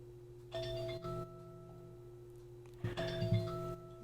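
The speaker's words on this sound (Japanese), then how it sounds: "今ピンポンピンポン音が聞こえるでしょうか。" An electronic doorbell chime rings twice, a soft two-tone ding-dong each time, somewhat distant over a steady low hum.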